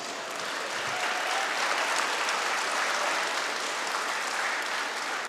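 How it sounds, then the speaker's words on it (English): Audience at a polytechnic college annual day celebration gives a sustained round of applause, dense steady clapping that fills the room at even loudness for the whole stretch before tapering at the very end. "Just join your hands for a huge round of applause."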